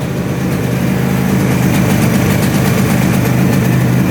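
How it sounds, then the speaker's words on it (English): A 500cc two-stroke motorcycle engine, revived after sitting for 22 years and with an exhaust leak, idles loud and close in a steady, even burble with a faint rapid rattle throughout. "Idling pretty good now."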